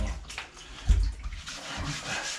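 Running tap water rinses a washed mousepad, a steady close splashing rush with a brief louder slosh partway through and no talk.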